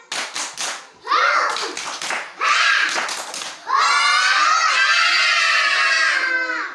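In a school classroom, a group of children claps a rhythmic chant with a teacher: short bursts of clapping and chanting, then a long stretch of loud, excited children's voices.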